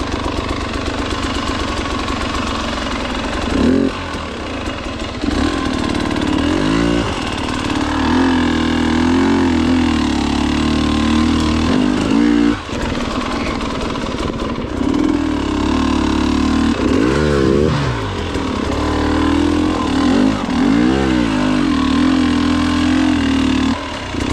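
A motorcycle engine idles steadily on a bike fitted with a radiator fan setup, a constant mid-pitched running drone with slight rises and dips throughout, fairly loud and close, with no talk.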